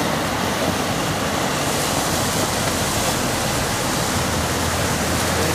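Floodwater rushes and surges loudly beneath a bridge, a dense, steady roar of churning water that fills the whole stretch without a break.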